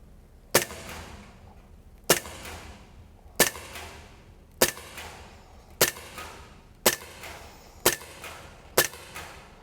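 Eight sharp shots from a Sig Sauer 1911 Spartan air pistol fired at 7 yards on a range, each a crisp crack with a short tail, spaced roughly 1.2 seconds apart at a steady rhythm with no talk.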